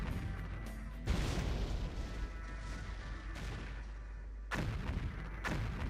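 81mm mortars fire in a Stalingrad war game: heavy booms land at irregular intervals, each followed by a rumbling tail, with quieter battlefield noise between the blasts.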